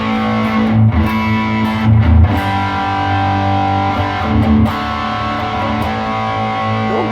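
A Gibson 335 electric guitar played through effects rings out with sustained, layered chords and a few fuller strums, steady and close, with no talking.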